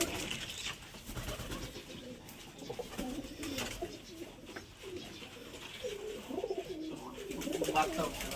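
Domestic pigeons coo in a loft of pure black birds nesting on eggs and chicks, a steady overlapping murmur of soft low calls running throughout at close range.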